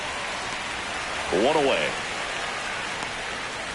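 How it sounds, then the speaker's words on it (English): Steady rain hisses evenly across a baseball game in MLB 26, a continuous wash throughout with a brief burst of commentator speech over it midway. "This rain is not letting up."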